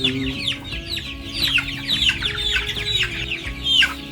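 Chickens cluck and squawk continuously and close by during vaccination against fowl cholera, with a busy overlapping flock and occasional sharper calls over a low background hum.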